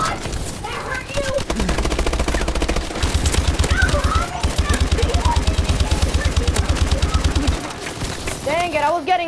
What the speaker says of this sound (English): Yo, he wants to use that machine gun?